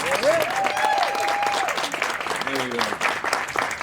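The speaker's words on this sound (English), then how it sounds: "Let's give her another round of applause." A crowd at a Gainesville, Virginia grand opening applauds loudly, with scattered whoops and voices rising over the continuous clapping nearby.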